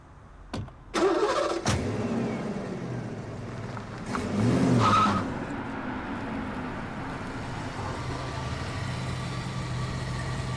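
A car door slams and an engine starts, then revs and settles into a steady running drone as the car pulls away, fairly close, with no talking.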